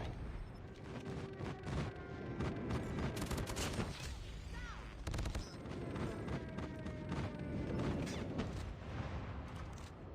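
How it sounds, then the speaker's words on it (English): Video game airstrike in a competitive mobile match: dense bursts of explosions and gunfire crackle continuously at moderate level, with a few louder booms around the middle. "Friendly airstrike incoming."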